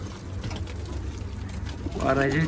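Pigeons in a flock give soft, low cooing close by, with a brighter burst of bird calls near the end.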